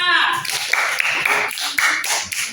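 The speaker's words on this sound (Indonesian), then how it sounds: "Tepuk tangan untuk kelompok 4." In a classroom, students clap for group 4 in a short burst of sharp, close hand claps layered with a patterned unison beat, with voices chanting along over it.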